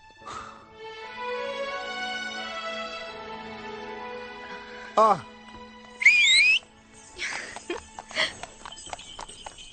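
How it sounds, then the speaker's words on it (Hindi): People give a couple of short, sharp whistles, one sliding upward, among music and other scattered sounds. "लोग सीटी क्यों बजाते हैं?"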